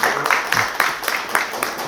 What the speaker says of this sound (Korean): 큰 박수로 맞이해 주실까요?